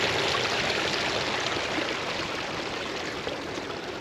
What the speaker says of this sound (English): there's a lot of little fresh streams trickling down from little valleys like this